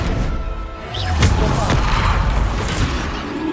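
A spell blast in Hogwarts Legacy on PS5 goes off as a sharp explosive boom with a crashing impact, set in dense, continuous game combat noise.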